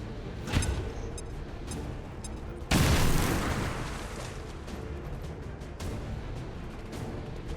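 A grenade blast in the XCOM 2 video game lands as one loud, broadband burst about a third of the way in and rolls off into a long rumbling tail. Fainter game thumps and ambience come before and after it.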